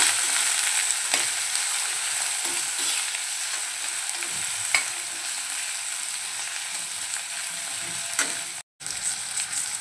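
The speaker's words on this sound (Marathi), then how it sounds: "आता आपण चिरून घेतलेली वांगी घालून घेऊया आणि छान परतवून घेऊया" Chopped small brinjals frying in a pan with browned onion for a Malvani-style curry, a steady close sizzle with occasional spoon scrapes, no talking.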